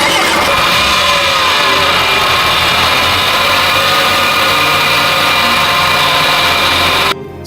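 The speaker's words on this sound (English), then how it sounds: "So now the engine really runs smooth and the gearbox is temporarily sealed" A rebuilt engine in a water-damaged Porsche Macan idles loudly and evenly with a smooth, constant hum, then cuts off abruptly at the very end.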